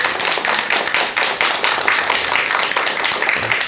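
Sustained audience applause fills a Buddhist monk's studio talk program, dense steady clapping from many hands, fairly loud and continuous with no voices over it.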